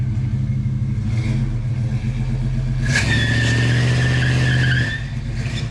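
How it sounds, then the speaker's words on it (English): A heavy truck engine drones steadily, then surges louder as it's pushed to full throttle with a rising whine, easing back down near the end. "That was full throttle."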